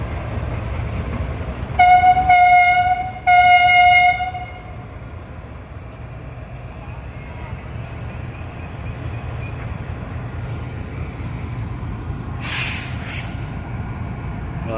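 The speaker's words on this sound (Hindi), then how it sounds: "Multan of Khyber mail depart कर रही है मुल्तान कैंट स्टेशन से" A diesel locomotive of the Khyber Mail sounds two long, loud horn blasts at Multan Cantt station, followed by a steady low rumble of the train pulling out and a brief squeal near the end.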